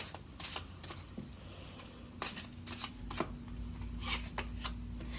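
Tarot cards are shuffled and drawn, making a soft, close, papery riffle with repeated brief flicks and slaps, alone and fairly quiet under a faint steady hum.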